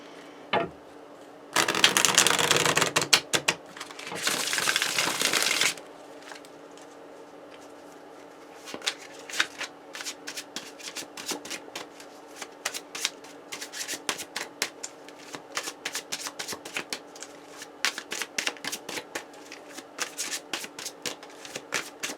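A tarot deck is shuffled up close, with a dense, loud riffling burst lasting a few seconds, then a long run of lighter, irregular card taps and flicks.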